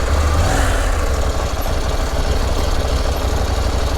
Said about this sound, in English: it's a KTM, and KTM, as you know, make fantastic dirt bikes, great enduro bikes